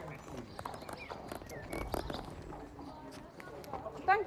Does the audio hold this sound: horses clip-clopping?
yes